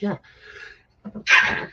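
A single short human sneeze at the end, sharp and close, preceded by brief quiet speech and faint murmurs.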